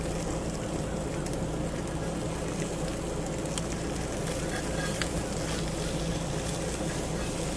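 Blackened crappie fillets fry skin side first on a hot Blackstone griddle, a steady, even sizzle crackling close by with no one talking.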